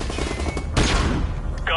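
A flashbang grenade goes off in Modern Warfare during a tactical breach, a sudden loud broadband burst about midway through that rings on above continuous gunfire and game background noise, with a short bright tone near the end.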